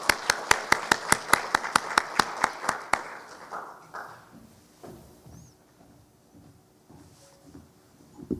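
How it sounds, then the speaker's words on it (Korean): Clapping from a conference audience welcoming the keynote speaker at an academic winter conference opening ceremony in Busan, a burst of fast claps for about three seconds that then fades into faint room noise and scattered small sounds. "큰 박수로 모시겠습니다"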